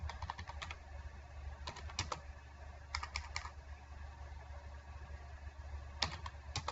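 Someone types on a computer keyboard while working in MS Word. Quiet bursts of rapid key clicks are separated by pauses, with a faint steady hum underneath.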